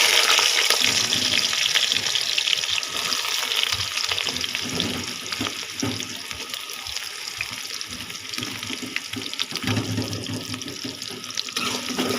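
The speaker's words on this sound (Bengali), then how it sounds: "এখানে আমি পিঁয়াজ কুচি দিয়ে দিব" Chopped onion hits hot oil in a pan for a broiler chicken curry, a loud rushing hiss that stays steady and dense with faint crackles, fairly close.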